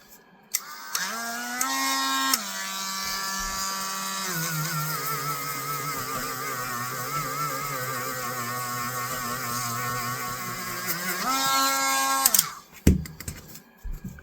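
A Dremel rotary tool polishes a vintage camp knife, a close, high motor whine running about eleven seconds, its pitch dipping and shifting under load before cutting off with a few clicks.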